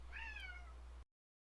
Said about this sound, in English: Sorry, my cat's being so dramatic.